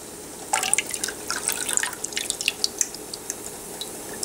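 Half a cup of masoor dal drops into 6 to 7 cups of vegetable stock, heard as a brief patter of splashes and drips lasting a couple of seconds, close and fairly light.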